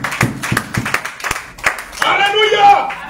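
Church congregation clapping in a rhythmic burst of handclaps, then shouting and cheering in acclaim, loud and close with voices rising together.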